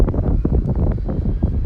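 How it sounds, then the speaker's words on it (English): Wind buffets the microphone at Exeter St Thomas railway station, a continuous low rumbling roar with gusty swells across the whole moment and no voices. "it is quite windy today in Exeter"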